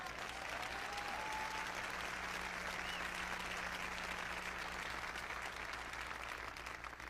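An audience applauding during a motivational speech, a sustained wash of clapping from many hands, heard from some distance and fairly faint, without a clear voice over it.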